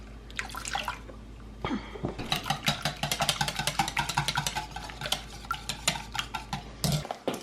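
A whisk beats eggs and milk for cookie bar batter in a bowl, making rapid, close, rhythmic clicking and splashing strokes for several seconds.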